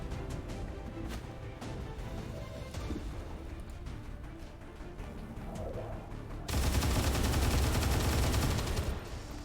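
A heavy big gun fires in a XCOM 2 Long War 2 battle: scattered sharp shots and clatter at first, then a loud, sustained, roaring blast of fire that fills the final seconds before easing off.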